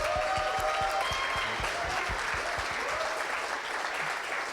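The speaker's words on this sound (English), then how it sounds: "And all deserve a round of applause." Audience applause at a hackathon award show, a steady wash of many hands clapping throughout, with faint voices and whoops mixed into the crowd noise.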